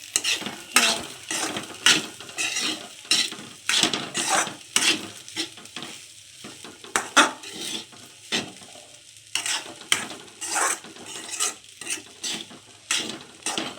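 Fried rice being stirred and mixed in a pan, with repeated close metallic scrapes and clatters of a spatula against the pan in an irregular rhythm over a light sizzle, and no voices.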